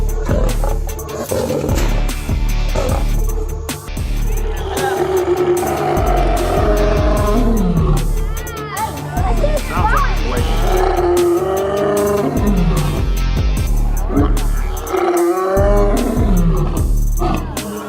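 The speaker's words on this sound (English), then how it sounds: "It's just a tiny lion cub, but listen to that roar." A tiny lion cub gives a loud, sustained roar, repeated in rough bursts over a pulsing low rumble, close and full throughout with no talk.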